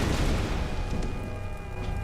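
A thrown lantern explodes in the video game Tomb Raider with a loud, low rumbling boom that fills the space and lingers steadily.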